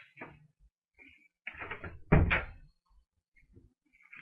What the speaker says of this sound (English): I did hear a door close